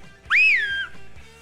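Single short whistle sound effect in a podcast ad for a pet device, a bright rising-then-falling tone lasting about half a second, clear and alone.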